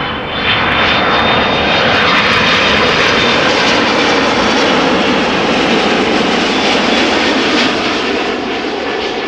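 A turboprop airplane engine at Amsterdam Schiphol Airport gives off a loud, steady droning roar. The sound stays fairly even for the whole stretch, with a faint high whine running through it.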